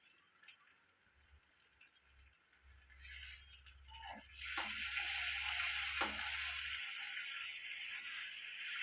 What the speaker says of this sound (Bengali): আমি দেখুন টমেটোটা এ সময় দিয়ে দিচ্ছি।